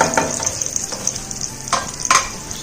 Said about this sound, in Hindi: थोड़ा सा चलाएंगे।